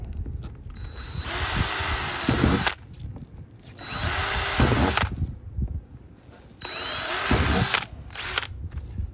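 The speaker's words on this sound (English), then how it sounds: "We're gonna do the same thing, drill them out with the same drill bit" A power drill drilling holes in a trash can whirs in three long bursts of about two seconds each, loud and close, with short pauses between them.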